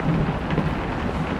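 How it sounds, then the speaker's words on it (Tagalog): Steady rain hisses continuously with a low rumble underneath, suggesting thunder, and no voices. "Ulan na naman."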